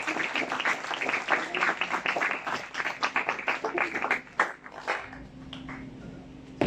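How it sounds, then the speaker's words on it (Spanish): Applause from an audience at an academic ceremony for a school director, a dense run of many hands clapping that thins out and fades after a few seconds, leaving quiet room tone. "Démosle un fuerte aplauso."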